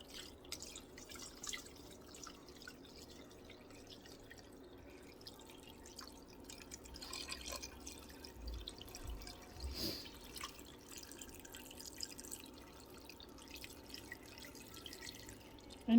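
Water poured into a cooking pot while making pho, a soft continuous trickle and dripping close by that swells slightly midway, with no talk over it.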